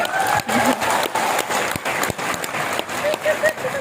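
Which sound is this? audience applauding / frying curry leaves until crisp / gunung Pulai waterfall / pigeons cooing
audience applauding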